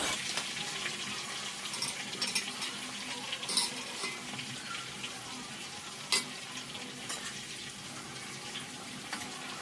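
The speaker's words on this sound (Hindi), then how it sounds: "यहाँ पे जब तक हमारे कटहल फ्राई हो रहे हैं" Jackfruit pieces frying in oil in a home kitchen, a faint, continuous sizzle with occasional light clinks and stirring scrapes, no voices present.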